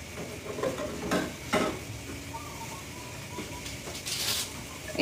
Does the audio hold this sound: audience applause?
no